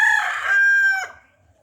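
A rooster crows once, close and loud, in a single drawn-out call that trails off into near silence.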